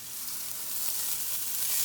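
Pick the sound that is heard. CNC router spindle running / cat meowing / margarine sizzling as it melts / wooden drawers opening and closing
margarine sizzling as it melts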